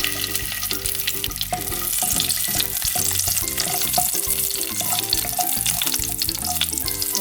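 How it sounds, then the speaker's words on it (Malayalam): Garlic added to hot oil in a pan sizzles and fries steadily, with stirring clatter over a dense crackle, close and loud throughout while chicken is being made. "ഞാൻ അതിലേക്ക് നമ്മൾ എടുത്തു വെച്ചിരിക്കുന്ന വെളുത്തുള്ളി ഇട്ട് കൊടുക്കുക"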